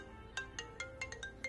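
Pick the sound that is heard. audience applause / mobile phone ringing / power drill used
mobile phone ringing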